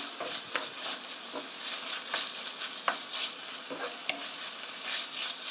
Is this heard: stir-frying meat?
yes